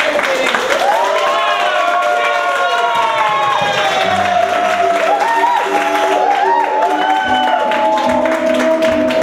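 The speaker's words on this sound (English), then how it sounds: "Let's start with like a little golf clap" An improv show audience claps and cheers loudly, a dense, sustained wash of applause with shouts and whoops rising from it. A voice also speaks over the crowd.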